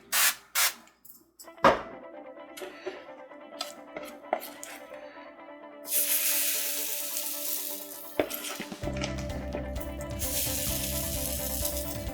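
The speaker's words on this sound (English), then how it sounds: "We're gonna hit it with a little spray." A few clicks and clatters, then a hissing burst of cooking spray onto a hot waffle maker followed by sizzling, close and fairly loud.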